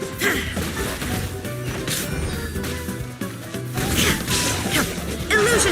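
A loud shattering crash as an illusion shatters in Genshin Impact, with glassy bursts and swishing effects over a dense, busy game soundtrack, several impacts spread across the clip.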